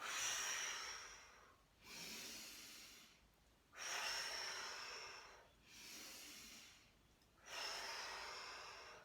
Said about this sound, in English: Inhale through the nostrils, exhale through the mouth